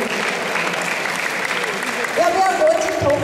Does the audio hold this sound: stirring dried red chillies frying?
no